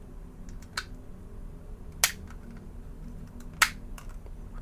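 Cover of a Logitech M650 wireless mouse snapped shut, a few quiet, sharp plastic clicks spaced about a second apart over a faint room hum, close to the microphone.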